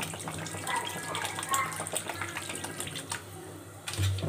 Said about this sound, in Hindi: तो इसमें हम पानी ऐड करेंगे, पानी इसलिए डाला जाता है ताकि स्पेक्टी जो है वो आपस में चिपके ना।